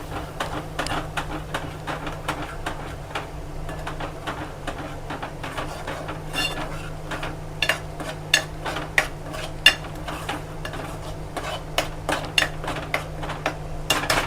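A spoon stirs a garam masala mixture through oil in a pan, making steady, repeated scraping and clicking strokes at close range with no voices.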